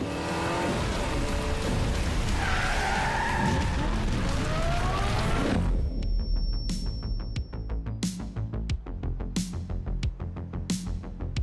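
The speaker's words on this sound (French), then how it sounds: "Sophia, on va devoir faire crisser les pneus." Cartoon tyres squeal and skid in Hot Wheels City, a loud rushing screech over engine noise, giving way to a string of sharp, separate impacts and clicks.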